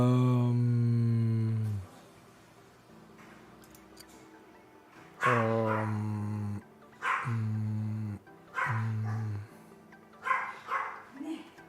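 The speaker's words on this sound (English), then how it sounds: "I think the dog is barking." A dog barks in several long, drawn-out, howl-like bursts with pauses between them, fairly loud and close, inside a home.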